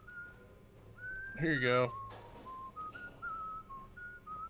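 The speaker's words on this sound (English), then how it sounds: "let's go do the whistle." Whistled notes from the video game Shadows Over Loathing, a short rising melodic phrase repeated after a brief spoken line, clear and fairly loud over a low game background.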